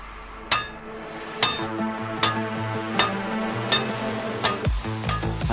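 Heavy hammer blows on steel caps fixed to the track of a logging machine: six loud, ringing metallic strikes about a second apart, each followed by a short decaying clang, with a quiet engine-like hum underneath.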